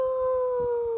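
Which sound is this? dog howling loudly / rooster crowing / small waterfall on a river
dog howling loudly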